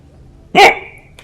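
A single sharp dog bark from a video game rings out loud and close, followed by a faint brief click against a quiet low background hum.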